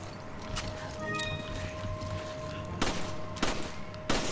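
Machine gun fire in the Resident Evil 5 video game comes as a few sharp separate bursts toward the end, over a steady game background hum.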